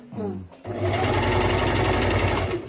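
A domestic sewing machine stitching a pillow cover with small straight stitches: after a brief bit of talk it starts up, giving a loud, steady, fast mechanical whirring and clatter that runs continuously close to the listener.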